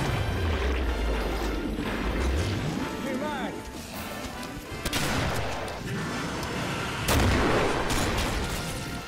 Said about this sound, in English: Watch it, I'm reloading.